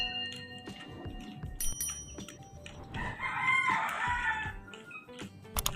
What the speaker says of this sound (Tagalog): Yung mga adult na chicken.